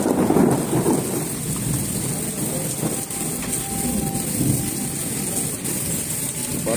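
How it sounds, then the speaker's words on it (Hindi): Heavy rain pours steadily onto surfaces while a thunderstorm rumbles, with a deep roll of thunder early and further low rumbles mid-way, all close and continuous without talking. "बारिश बड़ी तेज हो रही है जी।"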